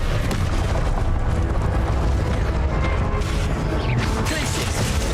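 An Incendio fire spell in Hogwarts Legacy erupts in a steady, loud fiery roar with crashing, booming texture throughout, and no voices heard.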